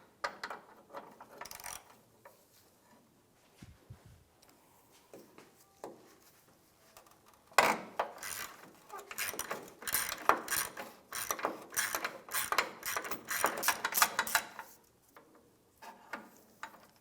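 A wrench working loose the front motor mount bolt on a 2003-2011 Honda Element, quiet scattered metallic clicks and ratcheting bursts, close up, growing busier midway with brief pauses.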